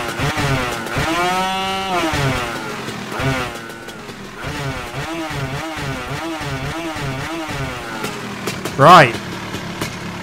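A vintage scooter fitted with a Polini 135cc engine revs up loud and close with rising and falling harmonic sweeps as it rides off, while someone talks over it.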